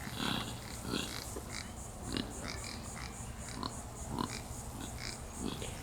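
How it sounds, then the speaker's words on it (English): Pigs grunting and oinking in short bursts roughly once a second, with a steady low background hum throughout. "Sounds like pigs."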